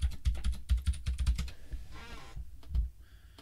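A password is typed on a computer keyboard during a Linux setup in VirtualBox, a quick close burst of key clicks followed by a few slower taps and a brief rustle, with no talk.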